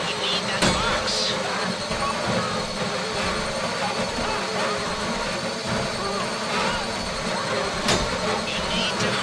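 A drill whirs steadily while cutting into a deposit box during a heist in the video game GTA 5, a continuous mechanical drone with occasional sharp clanks, running under people talking throughout.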